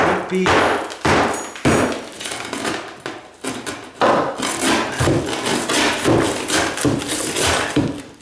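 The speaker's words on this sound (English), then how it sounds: "I can take my crowbar, get in there, raise that up" Repeated hard knocks and scraping of a crowbar against tile and wood while prying up a kitchen tile counter, irregular bangs with gritty rubbing between them, close up.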